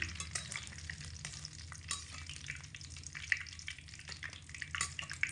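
Curry leaves fry in oil over medium heat while being stirred constantly, making a continuous crackling sizzle with scattered scraping and stirring noises throughout, close and moderately loud.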